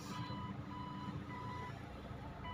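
A car reversing slowly during a driving lesson gives off faint, evenly spaced electronic beeps that repeat at a steady rhythm over low engine and road noise.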